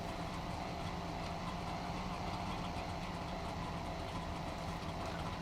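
A car engine in The Long Drive video game, the same unit as the game's van, drones in a steady, even rumble with a faint rhythmic clatter, continuous and moderately loud, with nobody speaking.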